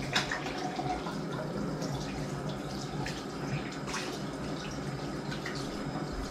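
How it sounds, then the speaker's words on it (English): Hands being washed under a running tap, steady splashing water with small irregular drips and splatters, moderately close and continuous. "now I'm just gonna wash my hands real quick"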